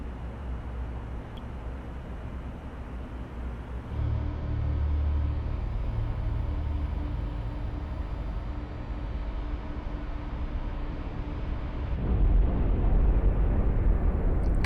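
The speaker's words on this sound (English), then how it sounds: "Torpedo away." A torpedo striking a ship in the Cold Waters submarine video game: a deep, muffled underwater blast rising into a long rumbling roar, with a second heavy surge of low rumble later, sustained and dull rather than sharp.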